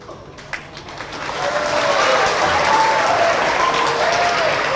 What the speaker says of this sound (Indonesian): Orang itu pun tepuk tangan ragu-ragu